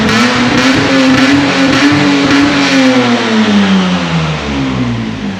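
Lexus IS200 running with its muffler removed, the engine revving loudly and close up, a rising and falling drone that holds steady throughout with a gritty exhaust rasp and no talking.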